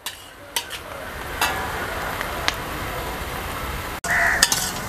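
Onion masala for Rajasthani masala bati fries in a pan while being stirred, a steady sizzle broken by spatula scrapes and a few clinks, with a brief gap near the end before the frying resumes.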